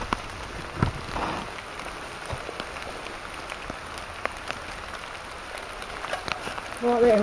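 Light rain falling outdoors on a wet day out, a steady soft patter with scattered drops spread evenly across the scene, a brief louder rustle near the end.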